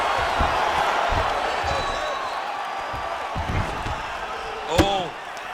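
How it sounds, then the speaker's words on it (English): Arena crowd in a UFC fighting video game roars and cheers as fighters rise to their feet, a steady loud wash of noise under commentary with a sharp thud near the end. "huge pop from the crowd as the fighters get back up to their feet"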